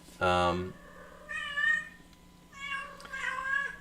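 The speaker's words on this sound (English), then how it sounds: "That's her in the back over by the window there. She's crying." A mother cat cries with a few drawn-out meows, one short loud call followed by two longer wavering ones, fairly close in a quiet room near a window.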